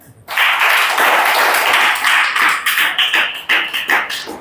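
An audience claps in welcome for the Bhanteji at a Buddhist dhamma class opening ceremony, a loud burst of applause that settles into rhythmic, evenly spaced claps toward the end.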